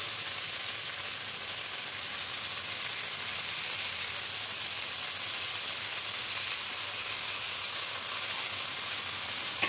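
Roasted grated coconut sautéed with prawns and kochu loti (taro stolons) in a pan gives a dense, continuous close sizzle with a steady hiss and faint scraping of stirring, no talking.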